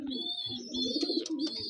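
Pet pigeons coo in low, rolling throaty phrases, close by and steady, with a faint high tone running alongside.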